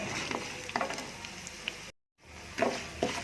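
Cumin seeds and peanuts fry in a pan with a faint, close crackle and scattered light pops, briefly cut off by a moment of silence before resuming.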